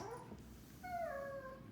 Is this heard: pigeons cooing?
no